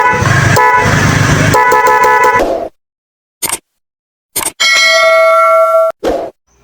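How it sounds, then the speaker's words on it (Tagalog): Loud, blaring dual horn honks nearby on a Honda Beat Fi motorcycle: a long blast, a short tap, two quick toots, then another long, sustained honk, with silent gaps between. "subukan natin na busina"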